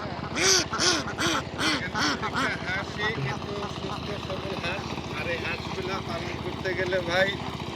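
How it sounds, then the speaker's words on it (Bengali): Khaki Campbell ducks on a farm quack loudly and close in a rapid burst of repeated calls, then keep up softer scattered quacking while someone talks over them. "এই যে সব হাঁস এখানে নেমেছে এসে"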